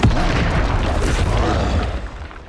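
An Incendio fire spell cast in Hogwarts Legacy bursts out as a loud, full whooshing blast that roars steadily, then fades over a couple of seconds, with no voice over it.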